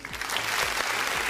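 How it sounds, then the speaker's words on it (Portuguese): A brief burst of applause during a podcast recording, dense, close clapping filling the short moment at fairly loud level. "Salva de palmas."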